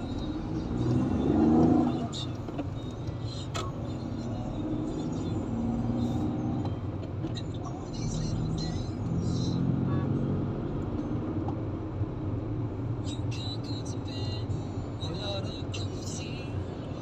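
Road traffic near the Mind Ave exit, a steady close rumble of passing cars with engine swells and occasional clicks, heard from inside a vehicle while people talk over it.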